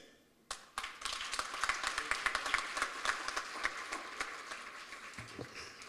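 A crowd at a heritage education colloquium bursts into a round of applause for a speaker, dense steady clapping starting sharply and continuing throughout, fairly distant in a hall.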